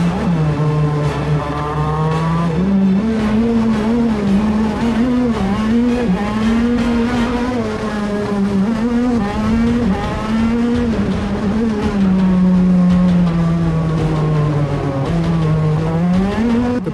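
Racing kart engine droning close up on the Daytona kart circuit, its pitch rising and falling through the laps with brief dips where the engine cuts out, tire noise faintly underneath.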